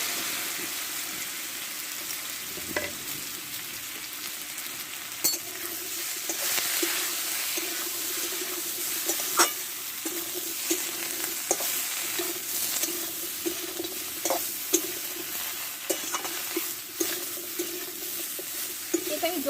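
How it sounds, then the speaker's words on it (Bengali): Spiced snake gourd frying with cumin seeds in a pan, cooked slowly without added water, giving a steady, moderately loud sizzle with occasional stirring clicks and scrapes throughout, with no talking. "এতে ধীরে ধীরে আমি চিচিঙ্গিটা ভেজে নেব।"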